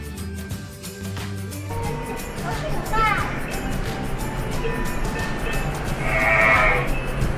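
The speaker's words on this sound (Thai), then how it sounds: "มีเสียงวัวด้วยนะที่เคยได้ยินเสียงวัวเสียงกระดิ่งวัว" Recorded cow moos and clanking cowbells play over the Skymetro train linking gate E to the main terminal at Zurich airport, a steady mooing call rising over the rumble of the moving car, with low voices around.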